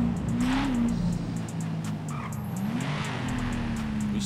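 An old-school car with an LS engine drones steadily in GTA 5 while its tires squeal and skid in short bursts over the continuous engine roar.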